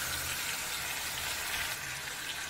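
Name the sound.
tomatoes sautéing in a pan with onions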